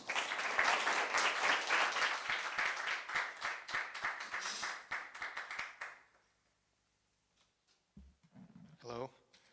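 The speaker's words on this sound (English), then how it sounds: "let's give a round of applause, ladies and gentlemen" An audience at a high school poetry event claps loudly and densely for about six seconds, then the applause fades into near silence before a voice begins speaking.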